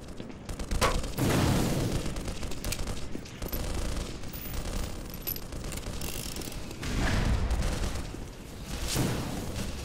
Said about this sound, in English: I hear gunfire is what I hear.